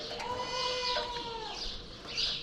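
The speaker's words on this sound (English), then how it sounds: "I can hear them crowing actually" Chickens crow at a farm, with one long rooster call and then more crowing and clucking at moderate distance over outdoor background noise.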